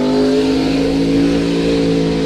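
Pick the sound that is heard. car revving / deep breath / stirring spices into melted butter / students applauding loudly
car revving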